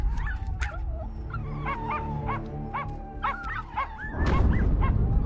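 Several puppies next door bark and yip in quick, repeated bursts, loud and close, ending in a denser rush of noisy barking.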